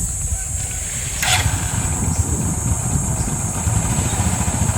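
A brand-new motorcycle idling in neutral, a steady close low engine throb with a fast even pulse that continues without letup.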